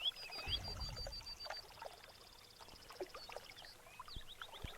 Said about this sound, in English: I'm going to collect some water